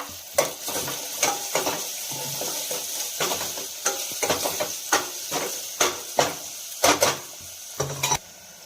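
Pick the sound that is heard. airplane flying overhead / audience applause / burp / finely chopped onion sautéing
finely chopped onion sautéing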